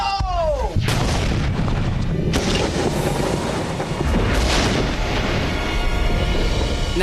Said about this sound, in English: when you're waiting for a pressure vessel to explode, you have no idea when it's gonna go off